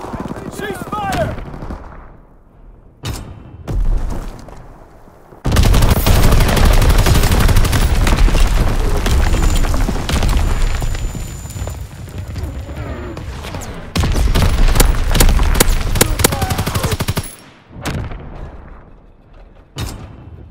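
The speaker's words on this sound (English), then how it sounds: "Fighter pilot ready for strafing run." Call of Duty WWII domination match on the Shipment 1944 map during a fighter strafing run: sustained loud machine-gun fire in long dense bursts with booms, broken by short quieter gaps holding scattered single shots.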